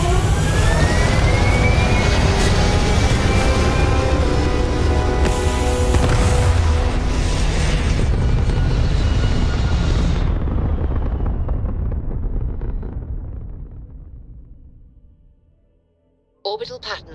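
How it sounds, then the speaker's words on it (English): Spaceship thrusters fire in the video game Starfield with a loud, sustained broadband roar and rumble that holds steady for several seconds, then gradually fades away to near silence before a brief sound at the very end. "Thrusters firing."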